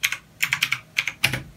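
Keystrokes on a computer keyboard while a flash command is entered in a Windows command prompt, a quick run of close, crisp clicks in two bursts, ending on a harder key press, with no talk.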